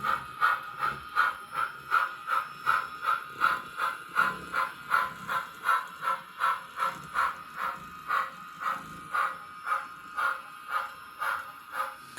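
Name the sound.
HO scale model steam train backing up tender first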